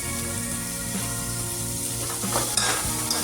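Chopped onion and curry leaves fry in hot oil for medu vada, a steady dense sizzle throughout with occasional stirring scrapes and clinks near the end.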